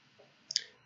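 A single light click on a Windows 10 laptop, a brief crisp tick close by with a faint softer tap just before it, and no talking.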